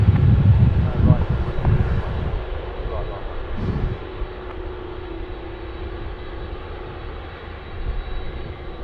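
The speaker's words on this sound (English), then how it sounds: "Now cleared for takeoff, runway 16 right" A jet airliner takes off from runway 16 right at Sydney Airport, a loud continuous engine roar that holds steady throughout, with voices talking over it at the start.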